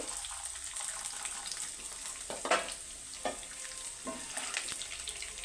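Onions sauté in a pan with a continuous moderate sizzle, close by, broken by a few scraping stirs and light knocks of a spatula.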